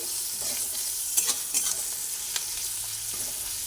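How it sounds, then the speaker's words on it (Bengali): Onion and garlic sizzle steadily in hot oil, with a few quick scraping stirs in the middle, close up and free of talking. "পেঁয়াজ আর রসুন একসঙ্গে ভাজা হচ্ছে"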